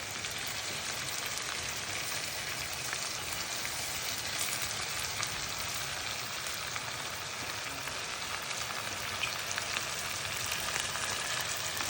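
Salmon slices sizzle and spit steadily in a hot pan, a dense, even crackle that stays close and continuous throughout with no talking.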